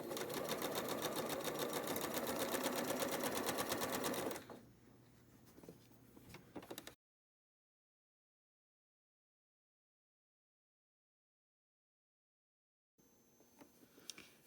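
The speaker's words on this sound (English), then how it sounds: "I'm going to go over to the sewing machine and sew a seam from corner to corner" A sewing machine runs a fast, even stitching burst while sewing a seam corner to corner on quilt pieces, then stops, leaving faint handling noises, a long silence and a few soft clicks.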